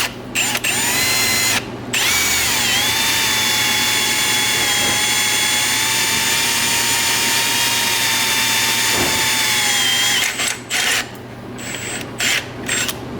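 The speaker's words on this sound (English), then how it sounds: "go ahead and drill my holes here to bolt it in here" A power drill bores bolt holes in metal for a handbrake mount on a Miata, a sustained high whine with steady pitch and brief pauses near the end, close and loud.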